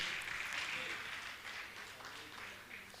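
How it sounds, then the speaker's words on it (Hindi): An audience at a Jain religious gathering breaks into steady, hearty clapping, moderately distant and continuous for a few seconds before tapering slightly. "जोरदार ताली बजाकर का सम्मान करें।"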